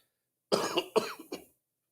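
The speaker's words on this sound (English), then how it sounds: "I'm going to be coughing from time to time." A few harsh coughs in quick succession, close to the microphone, after a moment of silence and fading back to quiet.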